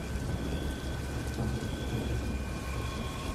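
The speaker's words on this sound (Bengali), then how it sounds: "এরই মধ্যে আকাশ ভেঙে বৃষ্টি নামলো ঝরঝর করে।" Heavy rain pours steadily in a dense, continuous hiss, with a low rumble underneath suggesting distant thunder, and no voices.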